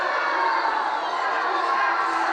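Loud, steady crowd noise fills a judo arena during a -73kg medal bout at the Tashkent Grand Slam, a sustained roar of disapproving spectators that reads as booing and carries on without a break.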